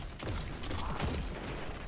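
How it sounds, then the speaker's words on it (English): Explosions in the video game Destiny, a cluster of low, muffled booms and rumbling bursts that follow one another quickly across a short stretch, moderately loud. "Explosions everywhere."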